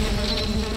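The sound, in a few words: buzzing bees from a beehive in the video game Valheim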